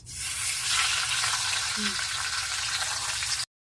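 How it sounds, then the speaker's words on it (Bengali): A fish head fries in oil in a kadai, giving a loud, continuous sizzling hiss that runs steadily until it cuts off abruptly. "ঘন্ট করার জন্য মাছের মাথাটা ভেজে নেব।"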